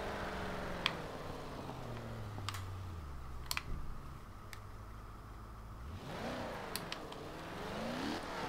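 Jaguar F-Type R Coupe engine in Forza Horizon 2, revving up in rising sweeps that drop back at gear changes, then climbing again, fairly quiet, with a few faint clicks.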